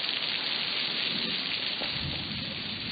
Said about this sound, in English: It was just supposed to be a slight chance of rain, and that's buckets.